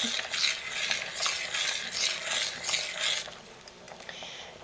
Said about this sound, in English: I'm going to stir that all up